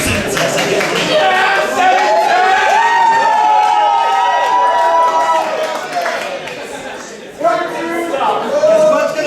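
An excited crowd at a Barkerville 2013 outdoor performance cheers and shouts loudly for several seconds, dips briefly, then erupts again, with children's voices among the din.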